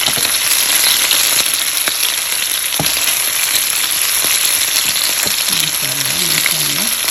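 Chicken pieces frying in a pan for BBQ chicken noodles, a loud, steady, close hiss of sizzling oil with occasional small pops and a faint stirring clink, with a soft murmur near the end.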